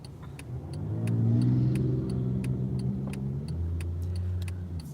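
A car passes on a road, its engine hum swelling and shifting in pitch, with light clicks and jangles over it and no talk.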